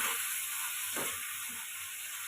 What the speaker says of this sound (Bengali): এখন আবারও হালকা নাড়িয়ে চাড়িয়ে ডাঁটার আলুগুলো আবারও ভেজে নেব।